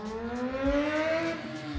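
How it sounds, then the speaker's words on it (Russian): Sport motorcycles, including a 600cc bike and a Suzuki GSX-R, circuit a race track, their engines droning in rising and falling tones with a faint passing whoosh, fairly distant and moderately quiet. "Еще плюс два мотоцикла вышло на трассу."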